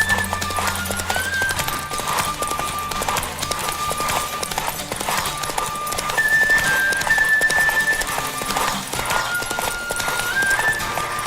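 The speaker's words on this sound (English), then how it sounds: "Don't spare the horse." Rapid hoofbeats clatter in a steady galloping rhythm in The Witcher 3: Wild Hunt, with a horse whinnying and faint game sounds and occasional voices underneath.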